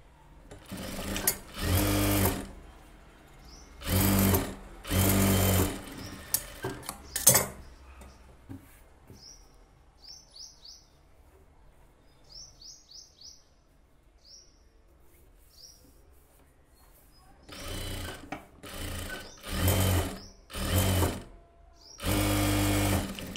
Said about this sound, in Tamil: இப்போ ஊக்கு பட்டி தைக்கிறேன்